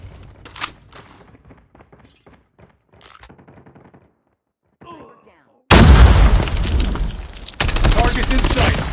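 Pistol fire in the mobile shooter COD Mobile: a run of sharp, separate shot cracks with gaps between them, followed by a sudden loud, dense wall of in-game combat noise that carries on to the end.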